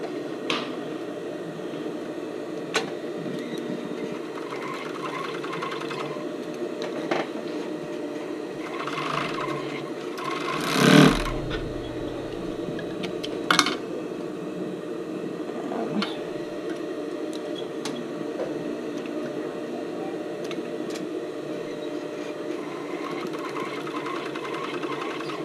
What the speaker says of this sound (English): I'm now going to sew my side seams together of my waistband.